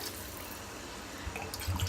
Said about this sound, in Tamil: இதுக்கு நான் மொத்தம் 6 கிளாஸ் தண்ணி ஊற்றிக்கிறேன்